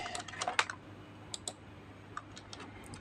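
Several crisp key presses on a computer keyboard while working in an Excel spreadsheet, sharp isolated clicks with a short flurry near the start and a few spaced taps after, close and clear with no talk.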